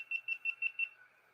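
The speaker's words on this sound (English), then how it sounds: "This thing's beeping at me now" A Jinsoku LC-40 laser engraver beeps five times in a quick, even rhythm, high-pitched and fairly faint, then falls quiet.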